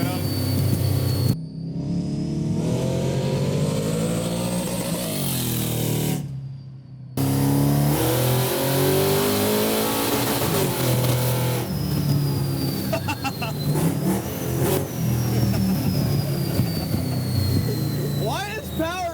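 A 900 hp supercharged six-wheel Chevy C10 revs loudly and close up, its engine note rising and falling through repeated throttle blips, with brief gaps between bursts.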